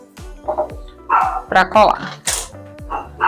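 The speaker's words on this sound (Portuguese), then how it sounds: "vocês vão ouvir o latido do cachorro, meus cachorros lá fora" Dogs bark repeatedly outdoors in short sharp bursts, somewhat distant, while a person talks over them.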